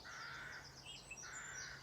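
Birds calling in a village wood, with harsh crow-like caws repeating over a steady soft background of distant chirping, fairly faint and without voices.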